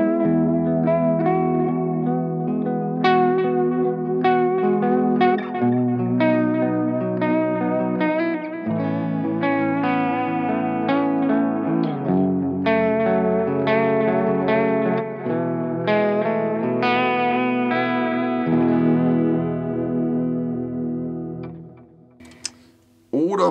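An electric guitar played through an Eventide H9 pedal set to a rotary vibe effect rings out in loud, swirling, chorused chords and single-note lines, continuous for about twenty seconds before fading.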